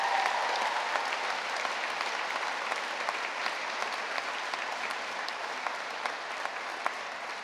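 Audience applause at a university graduation ceremony for the School of Media and Performing Arts and School of Art and Design, a steady, dense clapping that holds evenly for several seconds with no talk over it.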